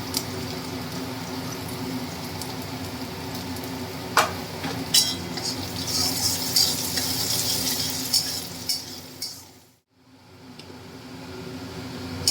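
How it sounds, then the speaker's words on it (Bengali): Chopped ginger and garlic frying with onion in a pan, a continuous sizzle with scattered scrapes and clinks of stirring, briefly cutting out near the end. "পেঁয়াজটা ভাজা হলে তারপর আদা রসুন কুচিটা দিয়ে ভেজে নিতে হবে"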